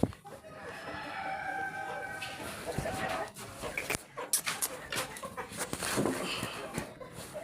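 Backyard chickens clucking and crowing near the listener, with scattered bird calls layered over someone speaking Hindi and household noise.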